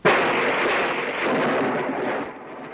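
Loud thunder rolls through a storm in a 1960s frontier western, a sustained, heavy rumble that fills the whole stretch and fades slightly at the end, with no voices over it.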